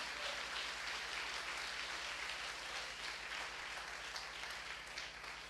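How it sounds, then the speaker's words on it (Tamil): A church congregation claps during a Sunday Tamil service, a quiet, steady stream of many hands clapping with no talking, over a low constant hum. "நல்லாதான் கைத்தட்டுங்கள் ஆண்டவருக்கு"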